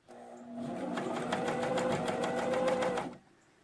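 A sewing machine stitches through a thick armpit seam in one continuous run of rapid, even needle strokes lasting about three seconds, close and clear, then stops abruptly.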